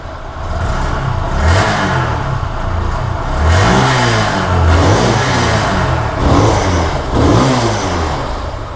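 A Vitacci Basha motorcycle engine runs steadily throughout, with a rough mid-pitched drone that swells into several short revs without pause.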